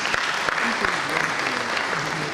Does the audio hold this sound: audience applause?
yes